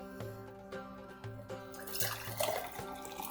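Water sloshes and pours out in spatters while something is washed by hand, the splashing growing fuller near the end beneath a faint repeating background tone.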